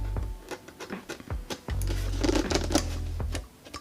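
A blade cuts the cardboard flaps of a USPS Priority box in short scraping, tearing strokes with a longer drawn cut midway, close and fairly quiet.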